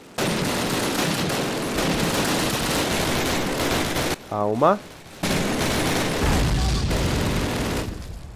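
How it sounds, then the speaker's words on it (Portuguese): Loud, dense gunfire from Call of Duty on PC rattles almost nonstop, with a brief pause where a voice speaks before the shooting resumes. "É muito alto o som dos tiros, mano"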